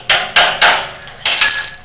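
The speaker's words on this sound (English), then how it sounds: "You'll take the drift key and a hammer, align the slot, and knock it loose" A hammer strikes a drift key on a Grizzly drill press with a Morse taper to knock the chuck loose: three quick loud metallic blows, a pause, then a fourth ringing hit, up close.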